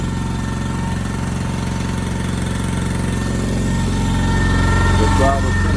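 The small engine of a Chinese mini excavator runs with its choke pulled just after starting. It makes a steady, close, rattling chug that rises slightly toward the end.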